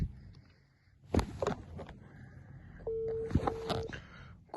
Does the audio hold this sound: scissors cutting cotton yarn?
no